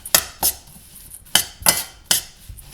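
A spoon knocks and scrapes against a pot while stirring chocolate oatmeal porridge, giving sharp metallic clinks in uneven bursts with quiet gaps between them.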